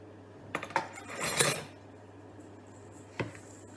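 A spatula scrapes and knocks against a bowl while combining a sticky muesli tart mixture, with a cluster of clattering strokes early on and one more scrape near the end. No one speaks.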